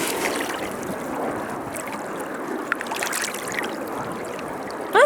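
A mudlarked cork plug is swished clean in Thames water at the riverside, a continuous gentle trickle and splashing close by, ending in a brief louder burst of water.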